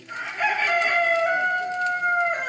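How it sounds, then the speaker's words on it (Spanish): A rooster crows alone in one long drawn-out call with a rising start and sustained tone, fairly close and clear. "y enseguida cantó un gallo"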